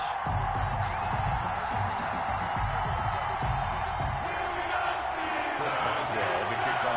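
Stadium crowd noise from an EA Sports NFL video game before a New York Jets versus Pittsburgh Steelers matchup: a steady, dense roar of cheering that holds evenly the whole time.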